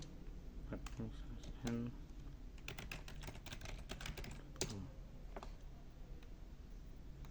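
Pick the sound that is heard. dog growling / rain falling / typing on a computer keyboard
typing on a computer keyboard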